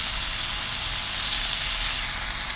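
Chicken malai boti fries in a pan with a steady, even sizzle and crackle that holds at one level throughout, close and unbroken, with no talking.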